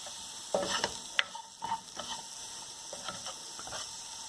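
Onions and tomato puree sizzle and fry in a pan, stirred with a few scraping spoon clacks and soft bursts of crackle over a low steady hiss, close by with no talking.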